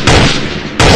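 Two loud, close sniper rifle shots from the online first-person shooter Special Ops Online, each a sharp blast with a booming tail, the second arriving just under a second after the first.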